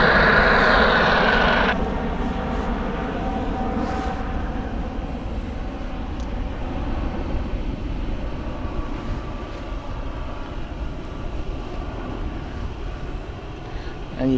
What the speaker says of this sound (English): There is the 737 of Ryanair,